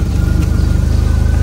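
Engine of a small Ferrari in a parking lot, idling close and loud with a rapid, even pulsing throb.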